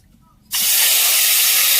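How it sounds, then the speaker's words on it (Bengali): Black mustard seeds hit hot oil for tempering a village-style fish curry, bursting into a sudden loud, steady hiss and sizzle after half a second of near quiet, continuing close and unbroken. "ফোড়নের মধ্যে আর একটা ফোড়ন দেওয়া হলো। এটা হচ্ছে কালো সর্ষে। দেখো, কালো সর্ষে ফোড়ন"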